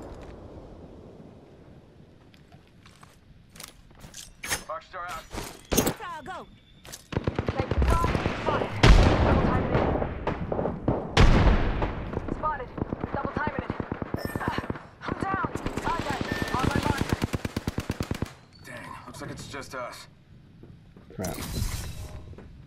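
Video game gunfire with sniper shots, bursts of rapid cracks and single loud reports over constant game noise, close and dense, with a player's voice talking throughout.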